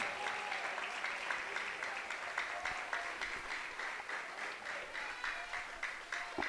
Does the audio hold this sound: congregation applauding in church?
yes